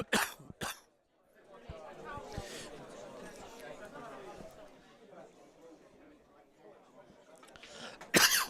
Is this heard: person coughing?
yes